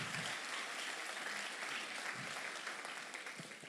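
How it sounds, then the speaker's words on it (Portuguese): A church congregation applauds during a sermon, a faint but steady wash of clapping that thins slightly toward the end. "Vamos dar um aplauso para Jesus."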